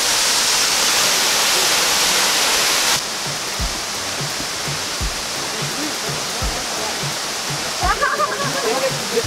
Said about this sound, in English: Today we're at the waterfalls, Montezuma.